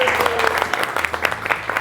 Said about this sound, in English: Can we give a huge round of applause to Lauren?